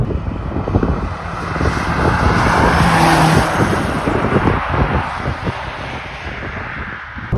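A Mk1 Audi TT quattro Sport's engine revs hard while driving, building into a strong, steady roar that swells and holds near the middle, then eases slightly, with wind and road noise underneath.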